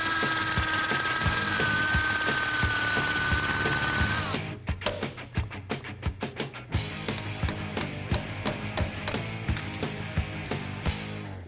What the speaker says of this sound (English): I'm just using this 3/8 drill bit to pop off the heads of the screws so I can get the hubcap off.